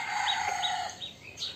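A rooster crows in short, bright bursts over a steady background, repeated a few times in quick succession, fairly close and clear.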